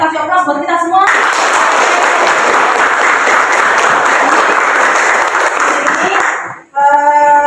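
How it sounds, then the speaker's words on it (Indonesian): A classroom of students applauds loudly and steadily for about six seconds during a computer systems lesson, with a teacher's voice just before and after. "Kasih aplaus buat kita semua"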